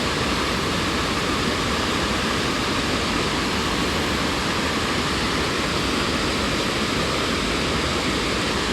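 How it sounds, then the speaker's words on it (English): Tahquamenon Falls in Michigan roars with a steady, loud, broadband rush of falling water that fills the whole stretch without letup and with no voices. "I mean, that water's moving at a good clip."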